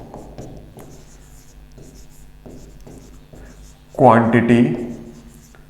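A pen scratches out notes on paper in a string of short, close strokes with small pauses between them, followed by someone speaking.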